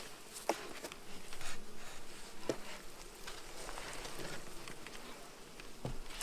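Honey bees buzzing close around an opened backyard hive during an inspection, a steady soft drone of many insects with occasional louder passes of individual bees near the microphone.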